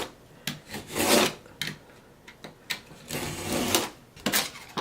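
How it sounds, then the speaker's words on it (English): Wood veneer being trimmed along panel edges, a series of dry rasping and scraping strokes, some short and some drawn out, close by with brief pauses between them. "trim that just like so, around all of the edges and everywhere"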